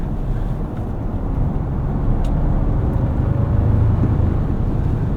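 A 2024 Toyota Tacoma Limited with the i-FORCE Max powertrain cruises along with a quiet, steady low drone of engine, road and wind noise inside the cab, unbroken throughout.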